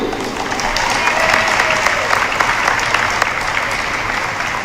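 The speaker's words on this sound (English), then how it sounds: "Once again, ladies and gentlemen, a big round of applause for these seniors" A crowd in a high school gym at a girls' basketball game claps steadily for graduating seniors, dense, even applause holding for nearly five seconds without letting up.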